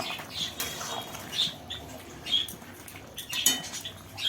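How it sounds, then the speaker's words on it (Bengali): Snakehead fish curry with winter vegetables is stirred in a cooking pot, producing close, intermittent metal scrapes and clinks of a spoon against the pot over a quiet background, without talk. "একটু নেড়ে চেড়ে দেবো।"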